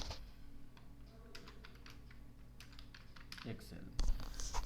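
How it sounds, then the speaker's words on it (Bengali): Computer keyboard typing "Microsoft Excel" into a search box, a run of quick irregular clicks and taps at close range, with a faint background hum and a slightly louder burst of keystrokes near the end. "আমরা সার্চ বক্সে লিখব মাইক্রোসফট এক্সেল"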